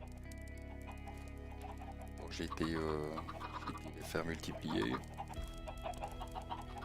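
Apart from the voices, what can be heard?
chickens clucking in a video game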